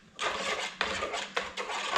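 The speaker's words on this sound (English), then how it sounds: "Give it a stir, make sure it's all homogeneous." A spoon scrapes around a pot of ginger mead in three or four quick, rhythmic strokes, each a gritty swish against the pot's side, up close and with no talk.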